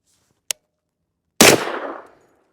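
A single sharp gunshot from a Ruger LC Carbine in 460 Rowland firing a 250 grain hard cast bullet, loud and close with a short decaying outdoor echo, preceded by a faint click.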